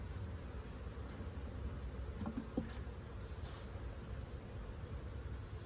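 Honey bees at an opened hive during a January winter check in South Florida, a faint continuous buzzing hum drifting under quiet background noise, with a couple of small clicks from handling frames.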